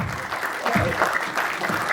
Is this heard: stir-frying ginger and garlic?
no